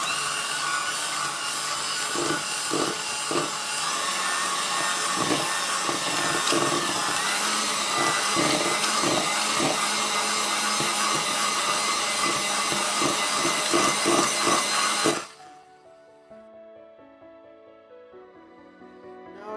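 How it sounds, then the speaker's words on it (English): An electric hand whisk mixing brownie batter of flour and cocoa powder whirs steadily and loudly for about fifteen seconds, then cuts off abruptly as quiet music takes over. "mix it all together until there's no more flour or cocoa powder in there by using our electric hand whisk"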